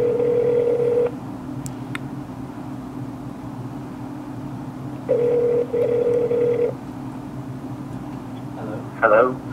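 An outgoing call placed from a Mac through an iPhone rings back in two tonal bursts separated by a long gap, over a steady low line hum, ending with a brief faint voice.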